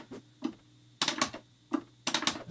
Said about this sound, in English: I'm trying not to be too loud with the keyboard